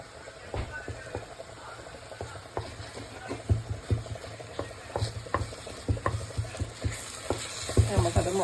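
Egg and broccoli thoran is stirred in a frying pan, with a soft steady sizzle under repeated scraping strokes of a spoon against the pan, close and fairly quiet, growing busier toward the end.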